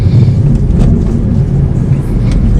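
A 2015.5 Volvo S60 T5 AWD with about 116,000 miles on the road, giving a steady low rumble of engine and road noise from inside the cabin, continuous and fairly loud with no talk.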